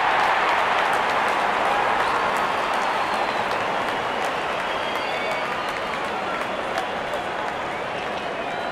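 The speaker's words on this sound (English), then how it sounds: "the crowd cheering in anticipation" A stadium crowd at a Pakistan versus India cricket Test match in London roars and applauds in a continuous broad wash. The noise holds steady and dense for the whole stretch, distant and enveloping.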